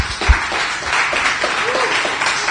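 An audience claps for partners at a startup launch event, a dense, steady wash of applause filling the room, with some voices mixed in.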